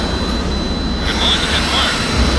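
A jet aircraft launches in Tom Clancy's HAWX, a loud, steady engine roar filling the scene without a break.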